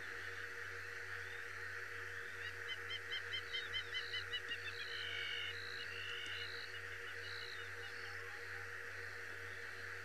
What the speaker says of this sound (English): The noise of the Mara in the morning.